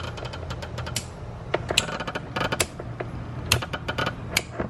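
A Remco 7GPM 100PSI softwash pump runs without pumping, giving irregular mechanical creaks, clicks and rattling knocks in uneven bursts, with no voices.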